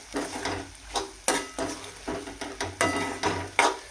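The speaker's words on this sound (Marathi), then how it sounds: "आता आपण गवळ टाकूया, गवळच्या शेंगा. आणि आता त्या आपल्याला तेलामध्ये छान परतून घ्यायच्या." Cluster beans (guar) fry in oil for a dhaba-style guar bhaji, with a steady sizzle broken by repeated sharp scrapes and clinks as a spoon stirs against the pan, close and moderately loud.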